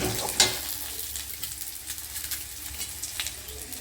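Onion, chilli and ginger sizzle and crackle in a hot pan, a close, steady frying hiss with brief stirring scrapes and pops in a home kitchen, with no talking.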